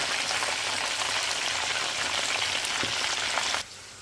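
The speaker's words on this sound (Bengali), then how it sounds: "বাকি চিকেনগুলো আমি এভাবে ফ্রাই করতে দিয়ে দিয়েছি" Chicken fries in hot oil with a loud, dense, steady sizzle and crackle close by that drops off sharply near the end.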